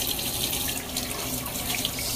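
Water runs steadily from a sink tap in a continuous bright splashing hiss while a cleaning cloth is squeezed out beneath it.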